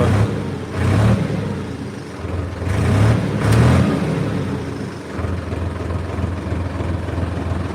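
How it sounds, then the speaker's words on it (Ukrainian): A three-cylinder engine on a mini tractor runs steadily, a low rumbling drone with a couple of brief rises in revs, heard close and alone without talk. "Двигун хоч і трьохциліндровий, але працює рівненько."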